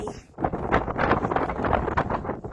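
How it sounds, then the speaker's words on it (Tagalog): Strong gusting wind during a hailstorm in Enna, Sicily, roaring and buffeting the microphone steadily throughout, loud and close, with no clear voices over it. "Ang lakas ng hangin."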